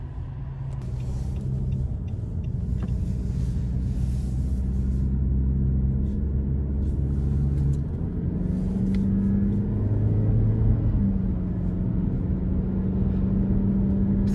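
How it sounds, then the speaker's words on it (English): A 2021 Nissan Rogue Sport SV with a 2-liter naturally aspirated four-cylinder on a road test drive: a steady low engine drone and road rumble heard from inside the cabin, rising in pitch as it accelerates, with no talking. "take this 2021 Nissan Rogue Sport out on the road for a quick test drive"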